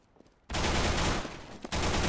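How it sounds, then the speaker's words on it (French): Sustained automatic gunfire erupts loudly in a Counter-Strike: Global Offensive match during a 4v4 bomb round, a dense burst lasting over a second, briefly dipping before the firing resumes at full intensity. "Qui va malheureusement tomber hein, sous les balles de Markelov."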